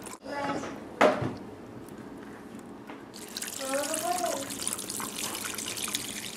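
Canned chicken broth pours into a crockpot with a trickling, splashing flow after a clatter of handling, steady and close, with a voice speaking at the start.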